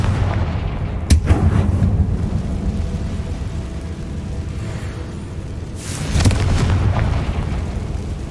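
Fiery Confringo spell explosions in Hogwarts Legacy: two sharp, loud blasts, one early and one near the end, over a steady low rumbling game background with no talking.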